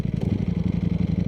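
A 2018 Ducati Panigale V4S engine runs just after being clicked from neutral into first gear, a close, loud, steady pulsing rumble with rapid even firing beats and no talk.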